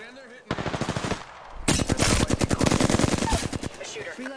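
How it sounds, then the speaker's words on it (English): Automatic weapon fire in the video game Apex Legends, two rapid bursts of shots, the second longer and louder, with faint voices underneath. "Shots fired and they're hitting."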